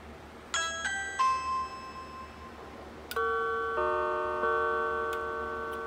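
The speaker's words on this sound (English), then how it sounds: "when we initiate the call from the front door, it will also ring the chime module" An MC3 intercom chime module rung from a Ring Pro video doorbell plays clear two-tone ding-dong chimes, a short higher pair followed by a longer, fuller pair, over a steady low room hum.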